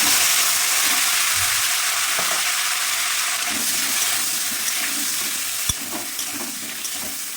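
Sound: potatoes coated with salt and turmeric frying in a pan

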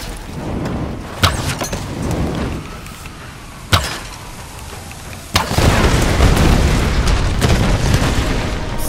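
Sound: explosive arrow blast in the video game Tomb Raider

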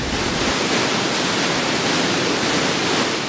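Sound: water rushing through concrete-lined diversion tunnel

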